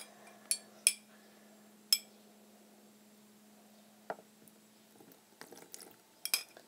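A spoon works borax solution into glue to make slime, sounding as a few sharp, close clinks and taps against the container over a faint steady hum, followed by a cluster of quicker scrapes and clinks, with no talking.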